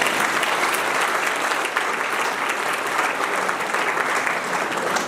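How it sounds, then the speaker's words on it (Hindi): Audience applause at a spiritual discourse, a dense, steady clapping crowd filling the whole stretch, loud and continuous. "सब लोग अपने लिए ताली बजाएं।"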